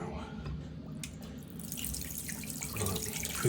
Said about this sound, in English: That one's dripping as well.